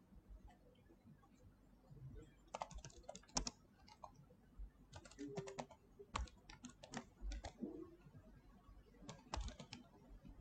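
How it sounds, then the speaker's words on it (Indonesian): Bursts of clicking on a computer keyboard while typing Python code in Google Colab, quiet and close, in irregular clusters of rapid keystrokes separated by short pauses. "setelah selesai kita mengetik library apa yang diperlukan"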